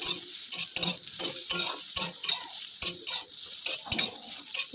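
Spices, turmeric and salt being stirred and fried in a pan, crackling sizzle under repeated scraping strokes of a spoon at a steady rhythm, close up with no talk.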